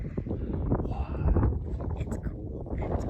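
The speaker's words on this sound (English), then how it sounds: "it's a little windy here" Low, rumbling wind buffets the microphone outdoors at a windy viewpoint in Capitol Reef National Park, steady throughout, with indistinct talking mixed in.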